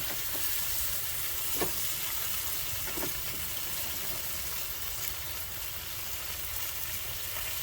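Meatballs sizzle and fry steadily in a pan, a dense continuous crackle with a couple of faint scraping clicks as they are turned, close and fairly loud with no talking.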